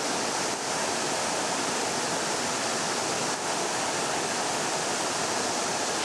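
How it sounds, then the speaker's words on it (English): Steady, loud broadband roar of a waterfall rushing at a scenic landscape photography spot, constant and unbroken throughout with no voices. "get away from the sounds of the waterfall"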